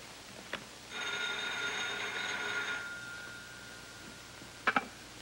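A telephone rings in a quiet 1930s room: one sustained bell-like ring of about two seconds with a steady harmonic tone, then silence, followed by a couple of brief faint clicks near the end.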